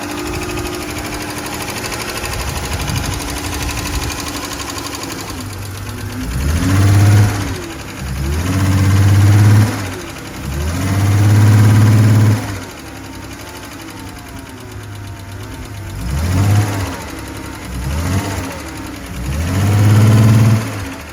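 A Chrysler 300 engine with worn-out motor mounts cranks over, catches and runs, then revs up in several repeated bursts, dropping back to a rough idle between each rev.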